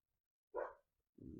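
A dog gives a single muffled bark indoors, followed moments later by a second rougher sound, both faint and distant.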